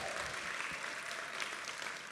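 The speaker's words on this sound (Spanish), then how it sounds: "gracias por aplaudirla" Church congregation applause at an Easter Sunday service, a steady dense wash of many hands clapping together, distant and even throughout.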